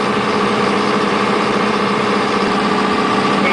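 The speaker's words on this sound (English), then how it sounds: "we will let the machine warm up for 3 to 5 minutes before shutting the output breaker and placing any load on the generator" A portable generator engine idles steadily while warming up before any load is applied, a constant droning hum that stays close and even throughout with no change in pitch.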